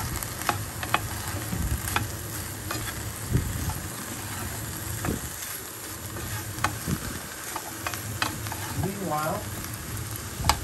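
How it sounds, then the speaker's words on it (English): Chicken curry sizzles steadily in a pan as zucchini is stirred in, with scattered scraping and clinking from the utensil over the low frying hiss. "And then add the zucchini"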